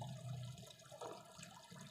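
Water pours steadily from the outlet pipe of a small 3-watt submersible pump, a soft continuous flowing and splashing that stays low in level throughout, with no talking.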